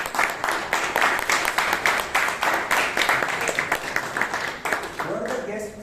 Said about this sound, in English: a big round of applause to our Sergeant at Arms for taking care of this